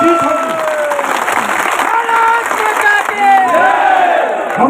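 A crowd at a workers' protest rally makes loud, continuous noise, a mix of clapping and cheering with shouted voices rising and falling over it, heard close and filling the whole stretch.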